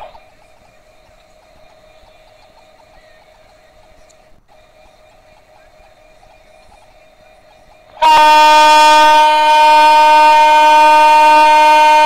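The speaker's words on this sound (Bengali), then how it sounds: "তো অনেক স্পিডে চলছে ট্রেন।" In a Bangladesh train simulator game, the Subarna Express runs at high speed with a faint steady tonal hum, then a loud sustained horn blast bursts in and holds for the final third.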